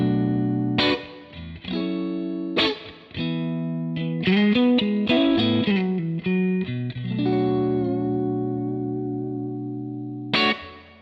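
Electric guitar through the clean channel of a Marshall DSL20 valve amp plays chords and short melodic runs. Notes ring bright with some reverb and sustain, separated by brief pauses, and no voices are heard.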